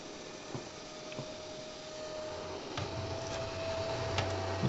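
A PowMR hybrid inverter's cooling fan runs at maximum speed, giving a faint, steady hum with a thin constant tone and a few soft clicks over low background rumble.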